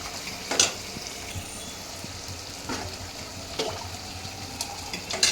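Water is poured into a hot pan for rasam and hisses and sizzles. Soft splashes and bubbling run under a few sharper pops, close by.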